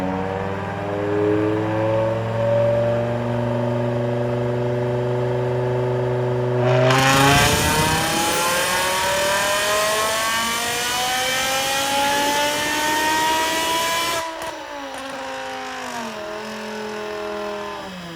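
A BMW E60 M5 V10 engine on a dyno winds up through a long, rising full-throttle pull, the howl climbing steadily in pitch before the throttle drops and the revs fall away to a lower drone.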